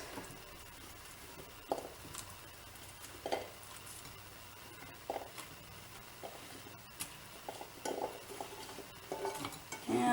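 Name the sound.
potatoes being put into a crock pot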